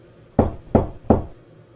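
Three evenly spaced, close knocks strike a bedroom door, each a solid wooden thud with a short decay, heard alone.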